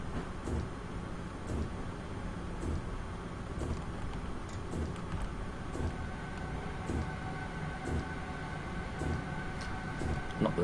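A BR425 electric multiple unit runs on a branch line in Train Simulator 2016, giving a steady, continuous rumble of motor and running gear with regular rail clicks, heard close and alone with no talk.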